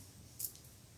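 A single quiet snip of scissors cuts through material for boho earrings made from earring blanks, one brief crisp click in an otherwise hushed room.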